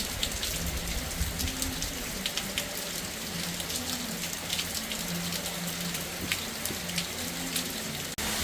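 Steady rain pours down continuously through the whole stretch, a dense hiss of drops hitting surfaces, loud and close, with no voices.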